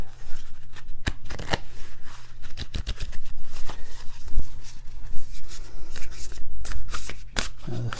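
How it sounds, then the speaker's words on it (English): A deck of tarot cards is shuffled close up by hand, giving continuous riffling and sliding with quick flicks and soft slaps. It is loud and steady and runs almost the whole span with no talking. "okay, we'll shuffle the cards."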